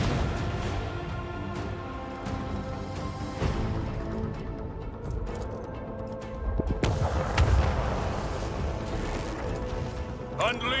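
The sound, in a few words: macro cannons firing in a video game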